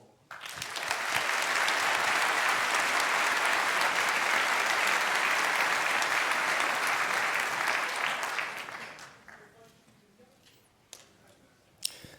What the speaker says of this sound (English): Please welcome him with a huge round of applause.